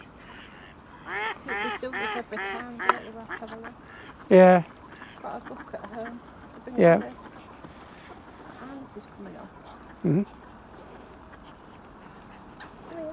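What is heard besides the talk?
ducks quacking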